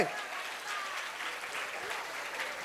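Loud applause from a crowd at a live Uttara Karnataka comedy speech, a continuous wash of clapping under a speaker's voice for a few seconds.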